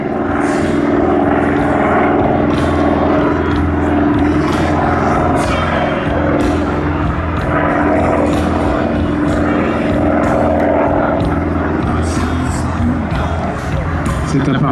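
A Douglas A-1 Skyraider propeller aircraft flies at the Air Legend airshow in 2024, its loud, steady piston-engine drone filling the whole stretch with a thick, continuous roar and no let-up.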